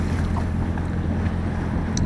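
A sailboat motors with its mainsail raised and engine running, sailing the Basque coast between Zumaia and Pasaia; a steady low engine drone sits under continuous wind buffeting and water wash.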